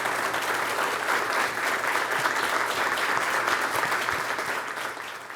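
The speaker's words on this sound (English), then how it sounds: "Give them another round of applause," Sustained applause from a town hall audience on economic mobility, a thick continuous roar of many clapping hands at steady loudness that tapers off slightly at the very end.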